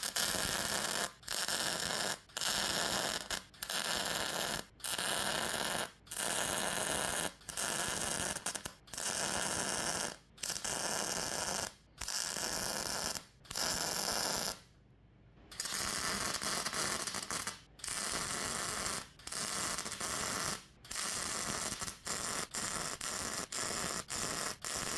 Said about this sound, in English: Anyway, let's get some welding done.